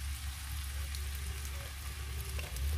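Chicken sizzles steadily in a hot pan as soy sauce is added, a constant crackling hiss at moderate level with no talking.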